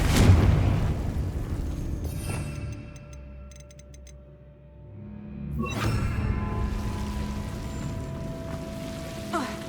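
A Confringo fire spell blasts in Hogwarts Legacy: a loud, booming burst with crackling debris at the start, then a second whooshing blast midway, set against game ambience and music.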